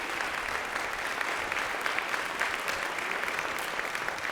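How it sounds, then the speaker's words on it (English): A concert audience applauds at a family benefit event, a steady, even wash of many hands clapping throughout, moderately distant and unbroken by talk. "We would love to give you applause."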